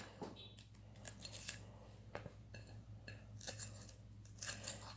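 Bell peppers are diced on a cutting board with a knife, a series of quick, crisp chops in uneven rhythm, close and fairly faint.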